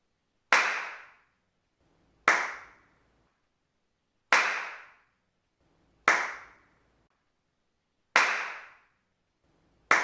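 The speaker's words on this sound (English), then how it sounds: "I recorded my hand clapping in the untreated room and later with the absorbers in place" Five sharp hand claps spaced about two seconds apart in a quiet room, compared untreated and with DIY acoustic absorbers, each followed by a short reverberant tail.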